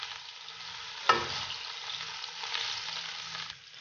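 Chopped garlic roasting in a pan over a medium flame gives a steady, close sizzle, with a brief thump early on as the food settles into the hot oil.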